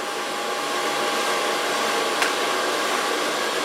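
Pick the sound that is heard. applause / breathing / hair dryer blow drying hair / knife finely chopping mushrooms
hair dryer blow drying hair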